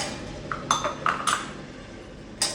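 Steel utensils and a small tiffin lid clink and clatter as they are fitted into a dishwasher rack, a handful of sharp metallic taps close by, with a final bright knock after a brief pause.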